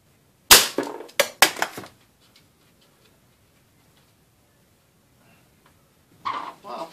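Three sharp air rifle shots with Daisy 14.1 grain pointed pellets fire in quick succession, crisp and close with short decays. Quiet follows, then a brief rustle at the end.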